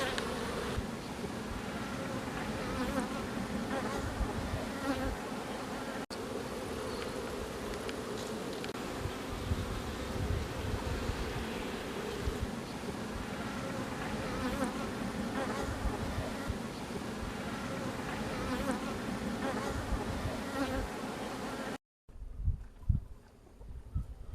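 Honeybees hum in a thick, continuous drone close by at the hive, many insects buzzing together without pause before the sound drops away briefly near the end.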